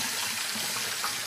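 Tap water runs in a steady, close rushing stream while something is rinsed under it, a continuous hiss with no talk over it.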